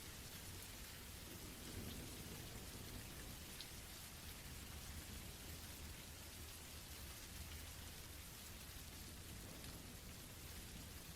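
Heavy rain pours steadily in a dense unbroken wash, with low thunder rumbling softly beneath it throughout, distant and continuous without any speech.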